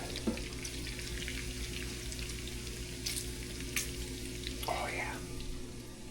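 Quiet, steady crackle and hiss of bacon frying in a pan, with faint scattered pops and a low background hum.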